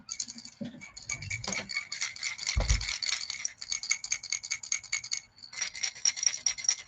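Hooks clatter on a Bassmaster Classic-winning fishing lure as it is shaken, its rattle chamber ball clicking in a rapid, steady close-up patter with a brief thump partway through.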